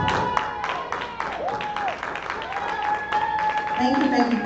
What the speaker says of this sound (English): we give her a great round of applause for Miss Tiffany Monroe